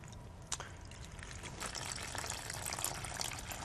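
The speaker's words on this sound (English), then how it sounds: "To start with, I'll add some water." Water poured into a container while building a model comet nucleus, a soft continuous splashing and trickling that rises slightly in intensity over a few seconds, close and fairly quiet, with no talk.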